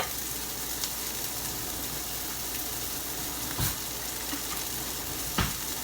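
Broccoli dumped into a pan of hot oil, giving a steady, close, loud sizzle with a few sharp clacks over the top and no voices.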